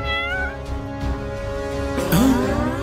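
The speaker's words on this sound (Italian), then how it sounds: "Un gatto!" A cat meows loudly and close, one drawn-out rising-and-falling call standing out over a busy background of music and other sound.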